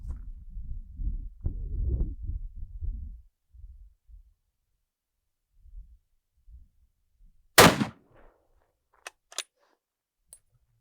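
A single sharp, loud report from a 30-06 rifle firing a 180 grain bonded bullet at a body armour plate, cutting through after low outdoor rumble and followed by a few faint clicks and ticks in near silence.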